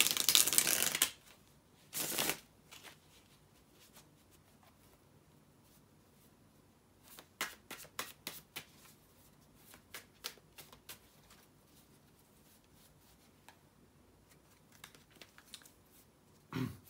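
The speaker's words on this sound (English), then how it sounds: "bear with me just a second, guys, to shuffle the tarot cards" Tarot cards are riffled and shuffled in a few brisk bursts, followed by scattered soft taps and card flicks in a quiet room.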